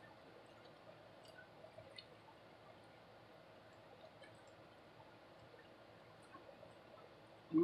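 Thick, lumpy banana nut bread batter with fruit being stirred in a bowl: a soft, continuous wet squishing and dripping, faint and close, with no talk.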